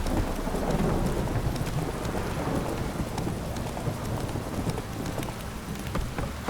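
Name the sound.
rain downpour in a video game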